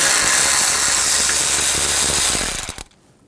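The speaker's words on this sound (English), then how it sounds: "Now we'll take this screw out. Use a T25 socket." Rapid clicking of a ratchet with a T25 socket backing a screw out of a 2000–2006 BMW X5 3.0L during AC condenser work, a fast steady rattle that stops abruptly near the end, close and loud.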